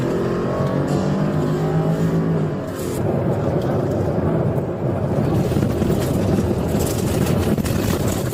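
A stolen police cruiser speeding away, a loud engine roar with a rising tone that shifts into harsh broadband rushing and wind buffeting, continuous for several seconds.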